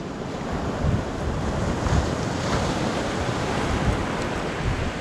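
Wind and surf along the Bristol Channel shore at low tide, a steady broadband roar of breaking waves with gusty wind buffeting the microphone, loud and continuous with no voices.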